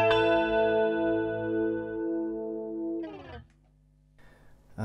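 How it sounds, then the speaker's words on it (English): A sustained, shimmering electric guitar chord through a BOSS ME-80 with compression, heavy chorus and hall reverb swirls and rings out into a long reverberant tail, followed by a few short picked notes. "It's a bit of compression with a heavy chorus and a hall reverb."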